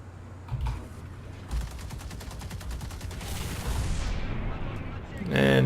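Tank main gun fire in War Thunder from a heavy tank with a 200 mm cannon, a game explosion with heavy rumble and ringing decay under ongoing battle noise, and a voice speaking near the end.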